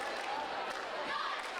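Crowd at a high school football game between Snohomish and Glacier Peak, a broad steady murmur of many voices filling the stands, moderately distant with no single sound standing out.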